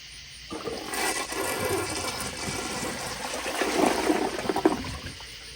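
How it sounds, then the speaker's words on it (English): A 1993 Crane Hymont toilet flushes with a sudden rush of water that swirls and gurgles loudly for several seconds, then drains down toward a trickle. "But here's another flush."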